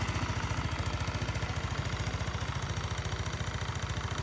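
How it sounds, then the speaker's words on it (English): A 2010 Honda Elite 110 scooter with a small single-cylinder engine of about 108 to 110 cc idles close by, a steady rapid low putter with even pulses and no talking. "This, on the other hand, has a little 108cc or 110cc, whatever it is, single cylinder engine"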